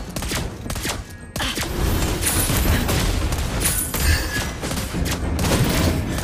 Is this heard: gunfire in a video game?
yes